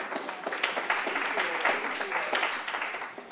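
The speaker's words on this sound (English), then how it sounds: "And you have applause from Catherine and Zach" Audience applause at a curriculum development workshop, a short burst of steady clapping from a group, fairly close and continuous for a few seconds with no talk over it.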